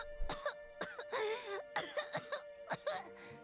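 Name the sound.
Kachina coughing in Genshin Impact video game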